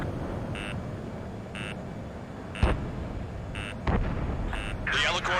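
Missile blasts in the Ace Combat 7 jet combat game land as two sharp booming hits over a constant engine roar, accompanied by repeated electronic warning beeps; no one speaks.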